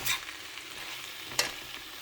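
Vegetables cook in a pan for spicy macaroni, giving a soft, steady sizzle with faint stirring, broken by two brief clattering scrapes near the start and middle.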